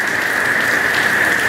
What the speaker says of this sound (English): The rain is picked up.